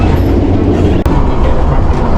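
Historic Taieri Gorge train running out of Dunedin toward the gorge, heard from inside a carriage as a steady, loud rumbling roll with one brief sharp knock partway through and no talk.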